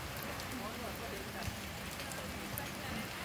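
Rain falling steadily on a tropical beach at Haad Khom, Koh Phangan, a dense, even hiss of drops that continues unbroken at a constant level, with no one speaking.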